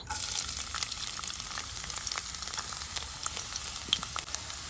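Chopped garlic sizzles in coconut oil in a pan, a steady close crackle of hot oil with scattered sharp pops throughout and no talking.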